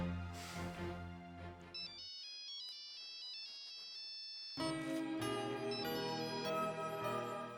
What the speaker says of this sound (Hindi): शिवराम जी, एक जरूरी काम के लिए मैंने आपको फोन किया था।